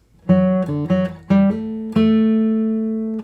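A short melodic guitar phrase of several plucked notes, played clearly and alone, ending on a longer ringing note that slowly fades.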